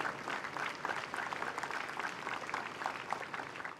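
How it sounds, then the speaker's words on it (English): Faint, distant applause from an outdoor park audience at a US Army Jazz Ambassadors concert, an even patter of many hands clapping for roughly four seconds with no talk. "How about a round of applause for Sergeant First Class Ricky Furr?"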